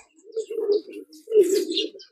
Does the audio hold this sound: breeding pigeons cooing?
yes